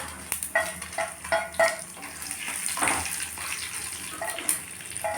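Cumin seeds and dried red chilies sizzling in hot oil in a kadai, a steady crackling fry with scattered pops and the clink of a spoon stirring close by.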